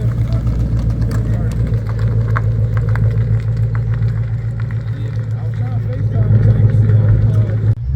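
At a car meet, a Mercedes-AMG GT C with a cross-plane V8 idles in a deep, steady rumble that swells slightly near the end, with crowd chatter in the background.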